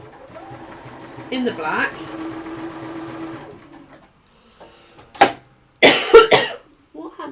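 A sewing machine stitches a dense satin stitch, a close zigzag, with a steady mechanical whir for several seconds. It stops, and then brief coughs and speech follow.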